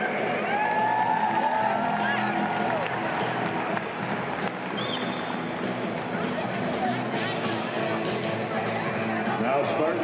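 Applause for Western Michigan seniors at a Spartan home senior night fills an arena as a dense, sustained wash of clapping and cheering, loud and even for the full length, with a few whistles on top.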